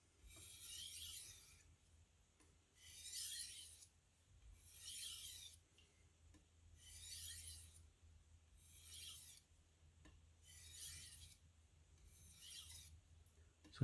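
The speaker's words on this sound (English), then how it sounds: "So now I can deburr." A knife edge is deburred with light strokes, producing seven soft, evenly spaced rasping swishes about two seconds apart, close and quiet with no talk.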